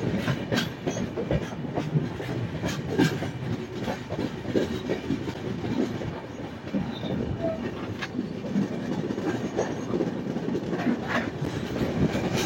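The 13147 Uttar Banga Express runs non-stop on rails, heard from inside with a steady rumbling roar and rhythmic clickety-clack of wheels over rail joints, continuous and fairly loud throughout.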